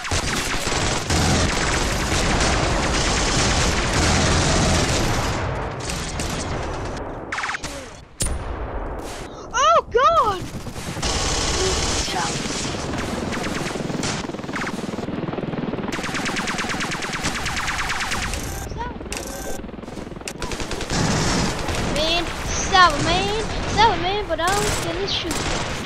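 Film gunfire rattles in sustained loud bursts of rapid shots and booms, broken by short pauses and swooping effects, with a voice briefly talking between volleys.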